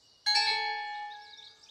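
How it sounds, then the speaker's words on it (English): A single bright bell rings once in a Noddy cartoon, striking sharply and then ringing out in a clear, slowly fading tone. "Ring your bell, Lindy."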